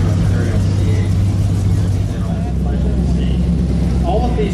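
Classic and concours cars, among them a 1932 Chrysler Imperial, rolling past in a car show parade, with a loud continuous low engine rumble and a slight swell in the middle.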